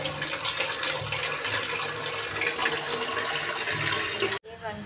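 Tap water runs steadily into a kitchen sink as macaroni is washed, a continuous splashing hiss close by that cuts off abruptly near the end, with a voice faintly underneath.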